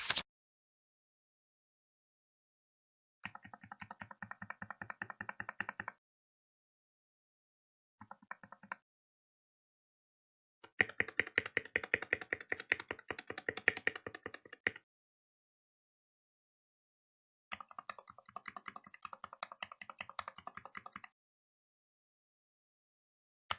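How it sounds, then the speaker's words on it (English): Typing on a modded NK65 keyboard fitted with YOK Polar Panda switches comes as four quiet bursts of rapid, even key clicks, each separated by a few seconds of silence. "Hopefully the sound of your keyboard now it's much better than before"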